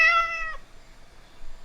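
Cat meowing for treats: a single clear, high meow close by, lasting about half a second, followed by quiet room noise.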